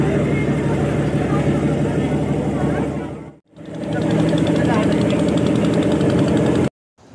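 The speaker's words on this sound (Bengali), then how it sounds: "আমাদের লঞ্চ এখন ছেড়ে দিয়েছে" A passenger launch's engine runs after departure on the way to Namkhana near Gangasagar, a loud steady knocking drone that cuts out briefly twice.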